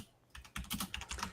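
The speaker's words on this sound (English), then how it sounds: "Oh, he's typing." Fingers type quickly on a computer keyboard, a steady, close clatter of keystrokes with no voices.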